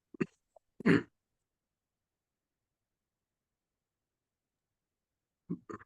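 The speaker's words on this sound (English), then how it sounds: "Please excuse my cough here." A few short, abrupt coughs close up, separated by a long stretch of silence.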